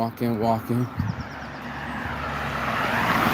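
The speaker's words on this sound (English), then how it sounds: "Here comes some traffic." A diesel vehicle approaches along a road, its broad rumble building steadily and growing louder after a brief moment of talking.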